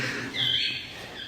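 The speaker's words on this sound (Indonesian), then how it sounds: "Tuh suara burung." A bird calls once or twice with a bright, high chirping note, fairly faint against a quiet outdoor background.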